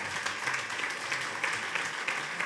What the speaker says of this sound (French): Et on peut l'applaudir bien fort, s'il vous plaît.